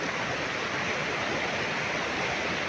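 River water rushes in a steady, broad roar, a constant close wash of flowing current with no pauses and no voices.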